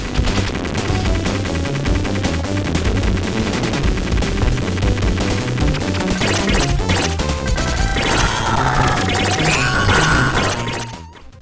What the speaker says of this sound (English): The laser beam and crash bomb sounds devastating